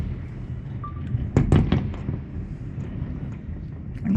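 Fireworks burst outdoors over water, a quick cluster of loud cracking pops near the middle followed by fainter scattered crackles over steady background noise.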